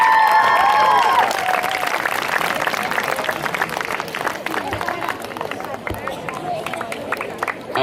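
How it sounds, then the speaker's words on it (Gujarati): Applause from an audience at a school annual function, honoring the teachers, a dense crowd clatter of clapping with some babble that thins gradually over several seconds. "આપણા શિક્ષકોને તાળીઓના ગડગડાટથી વધાવી લઈએ"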